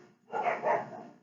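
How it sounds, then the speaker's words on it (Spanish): A dog gives a short double bark, somewhat distant and moderately loud, against an otherwise quiet room. "Disculpen los ladridos."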